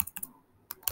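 Soft, quick keystrokes on a computer keyboard tap out a short burst, pause, then resume, heard close and alone in a quiet room.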